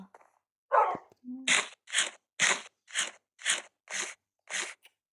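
Dogs eating in a video game: about eight evenly spaced crunching bites, close and fairly loud, following a few brief softer sounds at the start.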